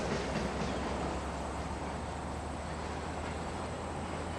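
A train rumbles past steadily and continuously, a dense roar with low rumble and rail noise throughout, fairly close and uninterrupted, with no voices.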